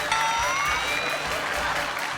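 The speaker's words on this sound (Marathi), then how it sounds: "जोरदार टाळ्या होऊन जाऊ देत" Loud, dense applause from an audience at a televised women's celebration show, a steady wash of clapping with no break that fills the whole moment.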